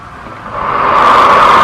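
Broadband flow noise from the valve and piping of a small supersonic compressible-flow channel, picked up at the channel entrance, rising steadily into a loud, continuous hiss and rush.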